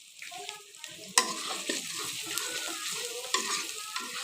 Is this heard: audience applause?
no